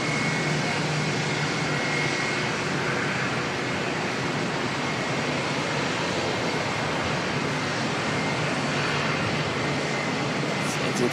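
Jet engines of Air New Zealand flight NZ441 to Wellington at Auckland Airport, a steady, broad roar heard from a distance at constant level, with faint voices underneath.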